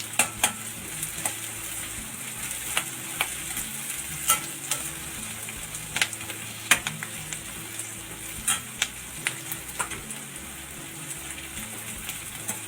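Onions fry in a pan for chana masala gravy, a steady close sizzle with crackling pops and occasional stirring clicks throughout, no voices.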